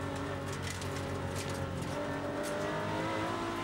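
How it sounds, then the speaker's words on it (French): Porsche 964 RSR race cars overtaking during a race at the Dijon circuit, heard from onboard: a loud, steady engine drone with high revving throughout and brief tire noise, with no speech. "Vous voyez le dépassement de Sabatier sur Brecht depuis la voiture de Joël Mutter."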